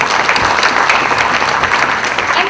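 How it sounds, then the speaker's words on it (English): Audience applause at a corporate service excellence awards evening, a dense, steady wash of clapping from a large crowd filling the whole stretch at even loudness. "he definitely deserves a huge round of applause from all"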